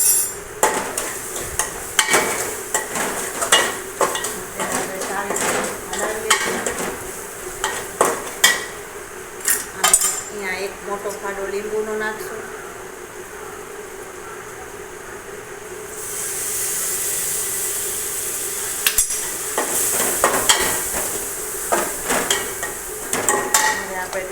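A spoon stirs poha in a pan after turmeric and powder go in, giving repeated scraping and clinking strokes with intermittent metallic taps and a low sizzling hiss under them, fairly close and steady.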